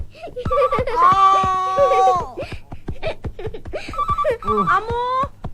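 A telephone rings indoors in a Telugu film scene with a repeating melodic electronic ringtone, loud and close, while people talk and laugh over it.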